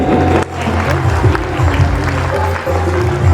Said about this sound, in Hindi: जोरदार तालियां बजाकर उन्हें हम शुभकामनाएं देंगे